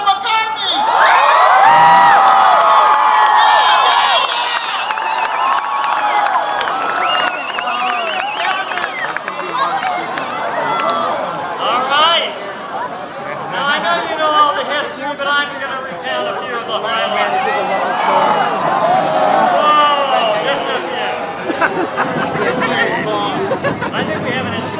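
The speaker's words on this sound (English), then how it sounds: "I think we have an enthusiastic crowd." Enthusiastic crowd cheering and whooping for Paul McCartney at his Hollywood Walk of Fame star ceremony, a loud sustained roar of many voices with shouts and chatter rising and falling throughout.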